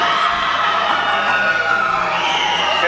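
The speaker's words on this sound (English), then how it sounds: "And the crowd goes wild." Crowd at the close of the Our World Underwater 2011 show, a dense wash of cheering and noise that stays steady and loud throughout, with scattered voices mixed in.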